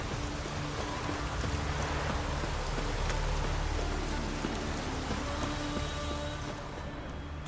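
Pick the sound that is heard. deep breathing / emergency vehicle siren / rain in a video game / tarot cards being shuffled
rain in a video game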